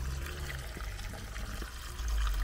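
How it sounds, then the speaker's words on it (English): Spring water from the iron-rich Chalice Well at the foot of Glastonbury Tor flows and pours steadily in a continuous close wash, swelling slightly louder near the end, with no talking. "At the foot of Glastonbury Tor is an ancient spring that flows from the ground."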